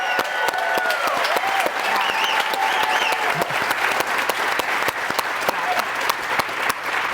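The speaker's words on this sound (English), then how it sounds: "So how about a round of applause for JP" Live studio audience at an RV rally event applauding loudly and steadily for an organizer, dense clapping throughout with a few voices and cheers mixed in.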